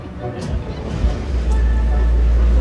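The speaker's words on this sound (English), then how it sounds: "Okay, that's the engine." A free-fall lifeboat's engine during a drill starts up partway through as a low, steady drone that swells and holds loud, following quieter cabin noise with faint voices.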